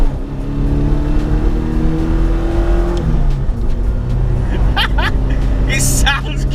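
A Ford fitted with a 2-litre Pinto engine accelerates in second gear: the engine note climbs steadily and loudly up close, then changes pitch around the midpoint. Faint voices can be heard in the cabin.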